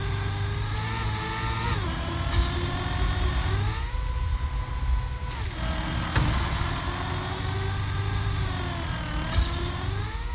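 A racing car engine in the Trackmania video game drones steadily with shifting revs, dipping and rising through turns over a continuous low synthetic hum, loud and close throughout.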